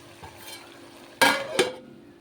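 Mutton coated in ginger garlic paste is stirred in a pan, with a faint background hiss and two sharp scraping clatters of the spoon against the pan near the end.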